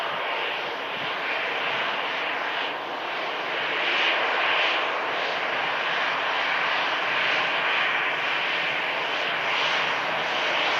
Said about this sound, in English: So Singapore for Houston is about to enter the active runway.